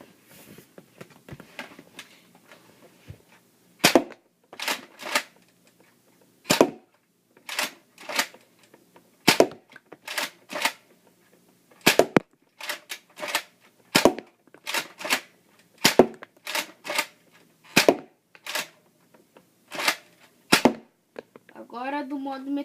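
A Nerf Raider CS-35 toy blaster fires foam darts at a cardboard box, giving about twenty sharp, close snapping shots at an uneven pace, sometimes in quick pairs.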